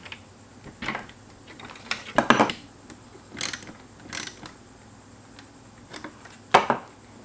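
Ratcheting clicks from a 10mm socket ratchet working on grille bolts of a Lexus GX470, coming in several short bursts of fast clicking, close and clear, separated by quiet pauses.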